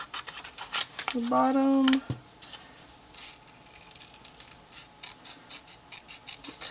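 Scissors cut out a paper pot-of-gold shape for a St. Patrick's Day hair bow, making a series of soft snips and rasps with a brief tonal squeak near the start, under occasional talk.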